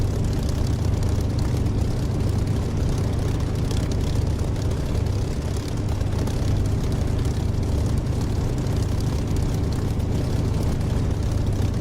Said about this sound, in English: just a Spitfire engine sound, which is created by Echo 19.